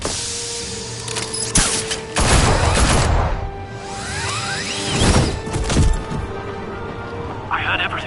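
Gunfire aimed at Batman in the Telltale Batman game: loud sharp bursts of shots and impacts come in clusters amid a busy game soundscape, with voices talking over parts of it.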